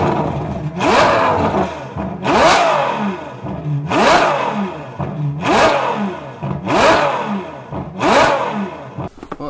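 A lifted truck's engine revs hard six times in a steady rhythm, each rev climbing sharply past 6,000 rpm to a high whine before dropping back, loud and close.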